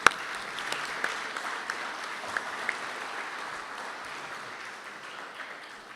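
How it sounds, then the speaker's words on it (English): Audience applause at a designers' forum, a dense, fairly quiet wash of many hands clapping that holds steady for several seconds and slowly tapers off, with no speech over it. "Round of applause to everybody."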